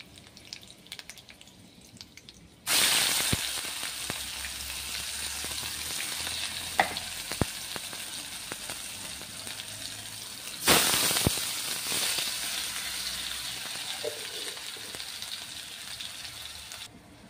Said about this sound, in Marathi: तर हे वाटण आपल्याला आता व्यवस्थित तेलावरती परतून घ्यायचं आहे